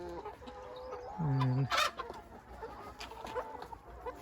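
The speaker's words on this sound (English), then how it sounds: "lovely young pullets." Young pullets newly housed in a polytunnel cluck and chatter in short, overlapping calls, with one louder squawk and a brief flutter, close by and lively.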